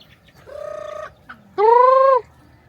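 Farm chickens at a rural provincial home give two drawn-out, tonal clucking calls, the second louder and closer, against a quiet background.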